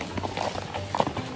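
Horse hooves clip-clop at a steady walking rhythm, close and moderately loud, during a breakfast on horseback in the Alps, with a river audible in the background.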